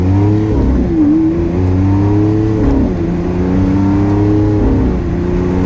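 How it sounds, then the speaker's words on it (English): A Lamborghini Aventador LP700-4 accelerates hard, its loud engine note rising in pitch through several gear changes, each marked by a brief dip before the next climb. "One last acceleration for today."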